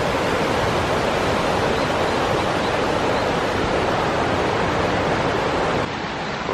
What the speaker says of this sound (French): une grande chute d'eau qui couvre une grande paroi d'un mur